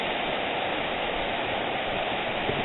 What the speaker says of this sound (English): That waterfall is very strong and very powerful.